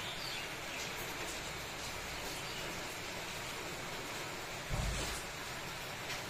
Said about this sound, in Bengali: আজকে কিরম বৃষ্টি পড়ছে দেখো